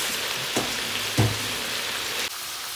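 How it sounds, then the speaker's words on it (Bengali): Hilsa fish heads and potatoes fry in hot oil with a soft, steady sizzle, broken by a few louder pops and crackles at close range. "ইলিশ মাছের মাথাগুলো ভেজে নিচ্ছি আর আলু ভেজে নিচ্ছি"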